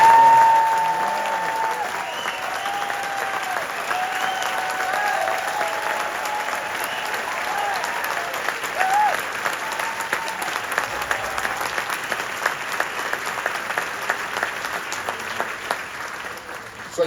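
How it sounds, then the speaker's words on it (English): A large concert audience applauding the London Philharmonic Orchestra (LPO), sustained, even clapping that fills the hall for a long stretch, with scattered cheers and a few tonal whistles over it. "How about a nice round of applause for the"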